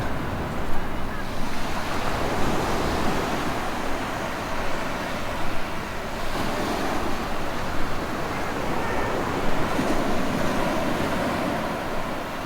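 Waves wash steadily in a bay on Oahu's east side as a continuous broadband surf roar, with gusty wind buffeting the microphone throughout.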